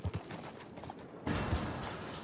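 Hooves from a horse moving in Red Dead Redemption 2 clop a few times at low volume before a broader rushing ambience swells up and continues to the end.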